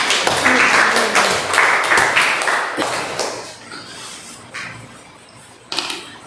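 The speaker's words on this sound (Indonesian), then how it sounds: "Ya, tepuk tangan buat diri kita sendiri." An indoor seminar audience applauds itself, a dense burst of many hands clapping that fades away over several seconds, followed by a few scattered claps.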